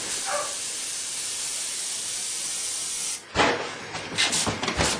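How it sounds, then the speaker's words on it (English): A Central Pneumatic siphon-feed airbrush sprays Createx paint in fine lines, a steady close hiss running for about three seconds, then broken, uneven sputtering spurts. "Central-Pneumatic airbrush, 20 bucks at Harbor Freight. Doing really fine lines."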